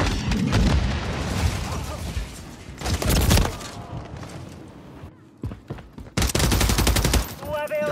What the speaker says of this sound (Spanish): ¡Lanzando una granada!